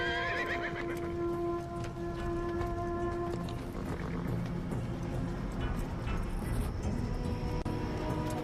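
A horse gives a drawn-out neigh lasting a few seconds, followed by steady clopping of hooves over a rough outdoor ground, moderately near and with no talking.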